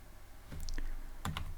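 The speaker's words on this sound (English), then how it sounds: "Then I'm going to type here" Quick clusters of computer keyboard keystrokes while coding in Python, a few close, crisp clicks in a short burst with no talking.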